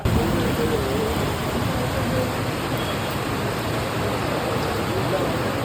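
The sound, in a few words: heavy rain outside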